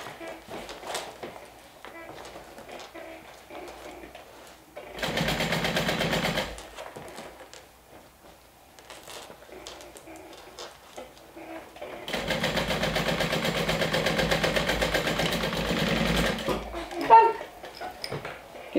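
A sewing machine stitches the binding on a bag in two steady whirring runs, one short and one longer, with talking between the runs.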